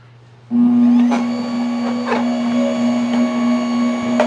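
An AOBOSI AMR 520 slow masticating juicer starts up with a sudden loud motor hum as its auger spins, then holds a steady droning whir broken by faint rhythmic clicks, with no talking.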